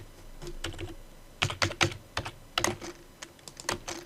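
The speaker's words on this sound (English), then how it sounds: "type in scale" Keys on a computer keyboard are tapped in short bursts of clicks, with a few quick strokes followed by pauses, close and fairly quiet, with no talking.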